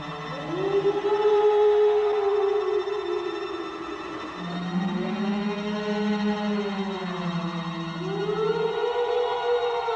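A banshee's wail in a fantasy film sounds as a long eerie rising and falling tone, several overlapping siren-like voices that swell and dip over about ten seconds, loud and sustained.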